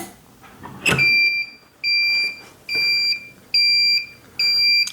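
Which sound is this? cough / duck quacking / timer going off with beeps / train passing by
timer going off with beeps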